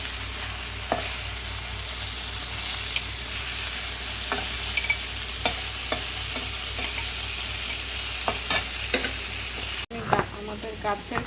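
Brinjal pieces fry in hot oil in a pan, a steady close sizzle broken by repeated scraping stirs of the spatula, with a sharper clatter near the end.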